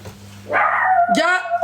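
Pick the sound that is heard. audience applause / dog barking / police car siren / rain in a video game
dog barking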